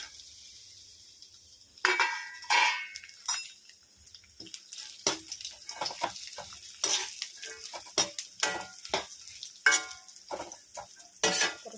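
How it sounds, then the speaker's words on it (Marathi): Cut coconut pieces roast in hot oil in a pan, giving a steady sizzle broken by repeated scraping stirs, close and clear with no talk. "आपण आता त्यामध्ये ते कापून घेतलेलं खोबरं टाकून छान असं भाजून घेणार आहोत."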